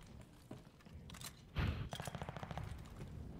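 Gunfire in a World War II video game battle on Gavutu, a burst of sharp shots followed by a rapid string of quieter bangs, with no talk over it.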